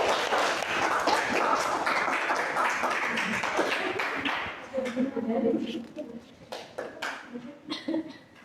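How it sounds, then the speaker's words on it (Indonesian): A classroom of students gives a group a round of applause: several seconds of dense, steady clapping that thins into scattered claps and voices talking. "Jadi kita beri aplaus untuk kelompok 2"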